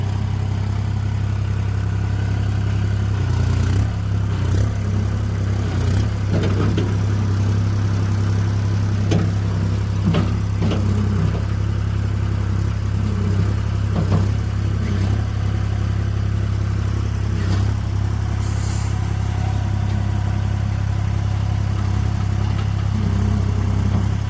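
An International 4140 skid steer loader's engine idles steadily, a loud, even low rumble that holds for the whole stretch with small mechanical knocks and no talk.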